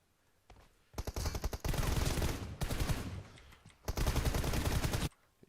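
Rapid automatic spray from a weapon in a PUBG Mobile one-on-one match, loud close bursts of fast shots with a pause in the middle and a final long burst that stops abruptly.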